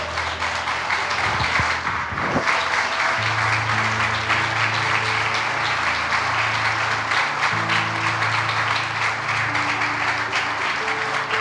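A church congregation applauds at a communion service, producing steady, dense clapping that fills the room throughout, while an instrument holds sustained tones underneath.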